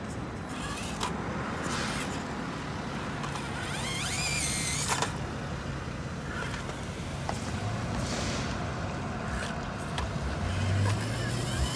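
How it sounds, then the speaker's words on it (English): Kyosho Mini-Z Toyota 4Runner RC truck crawling over large rocks, a continuous small electric motor whine with scraping, clicking tyre and chassis contacts and occasional knocks, close and fairly even in level. "Small little truck can still get over these quite big rocks for its size."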